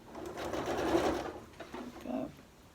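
A sewing machine stitches the seam allowance on an upcycled zip pouch, a close motor whir that rises into a steady run, stops briefly, then starts again for a short burst, with no speech.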